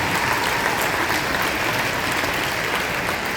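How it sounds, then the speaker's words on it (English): An audience at a school band concert applauds the 6th grade band, a thick, loud, unbroken wash of clapping with no talk. "Round of applause for the 6th grade."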